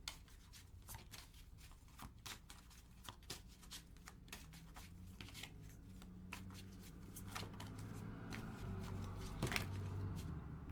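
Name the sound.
shuffling tarot cards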